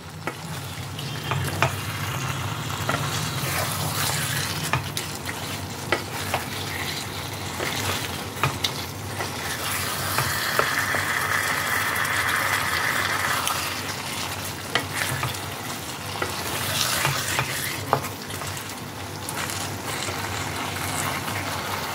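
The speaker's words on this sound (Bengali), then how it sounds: "এবার আমি এর মধ্যে দিয়ে দিচ্ছি ভেজে রাখা পনির আর ক্যাপসিকামের টুকরো। সমস্ত কিছুকে মশলার সাথে ভালো করে মিশিয়ে নিতে হবে।" Fried paneer and capsicum pieces stirred into a sizzling spice masala in a pan, a steady frying hiss with scraping spoon strokes throughout, no talking.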